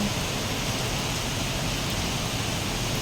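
Steady, dense hiss of heavy rain and wind from a typhoon pouring down with a constant roar, no voices, loud and unbroken throughout.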